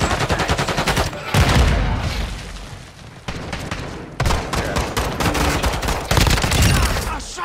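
Gunfire in the video game DMZ, with dense automatic bursts and rapid rattling shots in several loud, close volleys broken by brief lulls.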